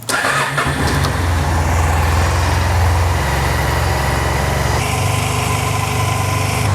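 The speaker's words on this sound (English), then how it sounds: "I'm going to start the bike for a few minutes and just let it warm up" A Honda Silverwing scooter engine idles steadily while warming up, a loud, continuous low drone that stays close throughout with no voices.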